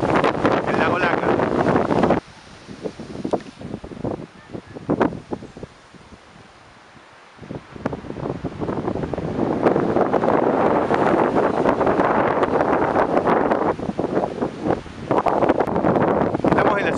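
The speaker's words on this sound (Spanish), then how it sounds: "Seguramente por el viento no se escucha nada. Nos ha tocado una jornada muy, muy ventosa." Strong gusts buffet an outdoor microphone beside Lake Lácar in San Martín de los Andes on a very windy day, a loud continuous roar that drops briefly to a quieter lull before surging back.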